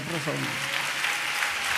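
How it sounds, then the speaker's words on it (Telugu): A church congregation applauds in a steady, moderately loud wash of clapping, with a voice briefly speaking over it at the start. "గట్టిగా చప్పట్లు కొడదామండి"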